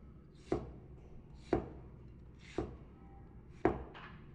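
A Tombro Viking knife, its edge ground unevenly, chops through an onion on a board in four evenly spaced, crisp thunks about a second apart, close and fairly quiet.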